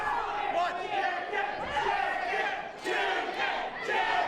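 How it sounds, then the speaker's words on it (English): A wrestling crowd cheers and shouts throughout a steady, boisterous roar, and voices can be heard among the noise. "Jarvis getting the crowd rolling."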